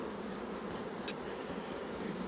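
Honeybees swarm around an open hive during an inspection, a steady, even buzz of many insects filling the air at moderate loudness with no talk over it.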